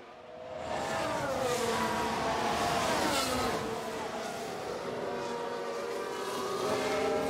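Formula 1 cars from the F1 Manager 2022 racing game, Williams among them, roar past in a Monaco replay, with several engine pitches sweeping up and down steadily and loudly while commentary continues over the top.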